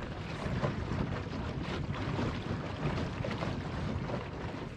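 Small cartopper sailboat sailing on open water, a steady dense rush of wind and water noise with heavy buffeting, close and continuous without pauses.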